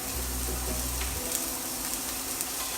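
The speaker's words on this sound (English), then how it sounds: "we're gonna just saute our onions" Onions sautéing in a home pan give a steady, close sizzle and hiss that holds even throughout, with a low hum fading early and no voices.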